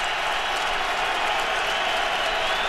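A stadium crowd roars steadily on third down at a Ravens–Patriots football game, a dense, sustained wash of noise with no break.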